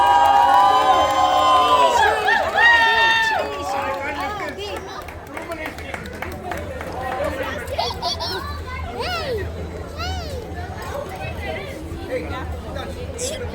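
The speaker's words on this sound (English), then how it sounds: "That's a wonderful cheer." A crowd of excited children cheers and shouts loudly at a school sports prize event, with the noise easing into lively chatter and scattered calls.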